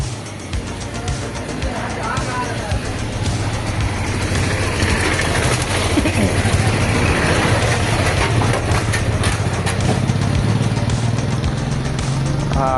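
A car and then a motorbike roll slowly past on a waterlogged road, a steady engine rumble filling the scene close by, with a voice speaking over it.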